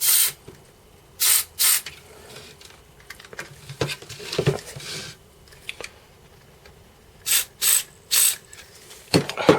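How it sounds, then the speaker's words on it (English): Contact cleaner sprayed onto Atari 1010 keys: several short hissing spray bursts, some in quick pairs, separated by quiet stretches with faint clicks and handling noises close by. "you might need to spray in a few different places"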